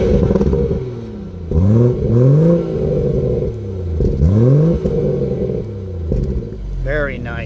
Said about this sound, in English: Got some great burbling going on there.